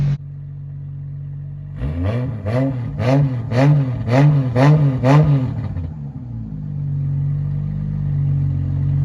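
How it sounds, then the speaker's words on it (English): A turbocharged 2JZ engine in a Lexus GS300 idles on its first start, then revs sharply about seven times in a quick rhythmic series before settling back to a steady, close idle. "Give her a few revs and we gotta shut it off."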